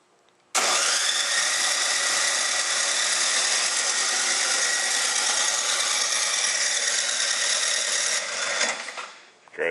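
Electric starter on a Toro snowblower whines loudly and steadily for about eight seconds, then winds down and cuts off before briefly kicking in again.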